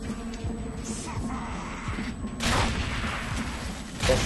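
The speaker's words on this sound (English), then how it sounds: "Who the fuck is shooting me?" Gunfire in the shooter video game Bulletstorm comes as rapid bursts of loud shots over continuous game background noise. A louder, denser volley breaks out partway through.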